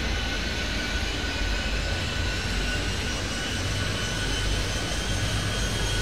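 A jet airliner in the video game Airport Madness 3D accelerates down runway 30 for takeoff, a steady, loud broadband engine roar that holds at even strength throughout with no talk over it.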